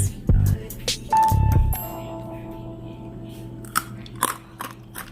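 Crunchy plantain chips bitten and chewed up close in two loud bursts of crunching near the start, followed by quieter mouth sounds and faint background hum.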